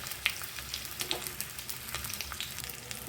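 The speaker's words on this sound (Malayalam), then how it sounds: "നമ്മൾ കടുകും ജീരകവും എല്ലാം നമുക്ക് നല്ലതുപോലെ ഒന്ന് വാട്ടി കൊടുക്കാം" Mustard seeds and cumin frying in hot oil, giving a steady soft sizzle with small scattered pops and crackles, close and fairly quiet, with no talking.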